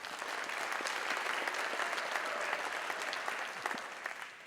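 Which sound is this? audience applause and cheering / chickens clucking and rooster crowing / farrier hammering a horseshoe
audience applause and cheering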